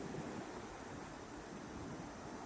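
Strong ocean waves break at Katchal Island, a steady loud wash of surf with wind noise blowing across the microphone and no voices.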